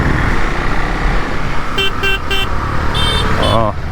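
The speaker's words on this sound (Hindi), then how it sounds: "सिग्नल खुला नहीं कि हॉर्न बजाना चालू" Car and motorcycle horns honk repeatedly in a dense traffic jam at a signal on a bike trip in India, short beeps over loud engine and road rumble, some close by.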